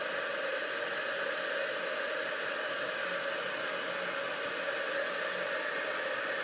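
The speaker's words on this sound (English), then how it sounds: "When you heat set the embossing powder, and you'll see it change colour." A heat tool sets gold embossing powder on a wedding card, blowing a steady, loud, airy whoosh that stays constant from start to finish with no talking over it.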